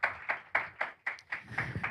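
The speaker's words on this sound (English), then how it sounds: "Big round of applause." A small audience at a climate-solutions speaking tour event claps briefly. The claps are quiet, distinct and slightly uneven, with no voices.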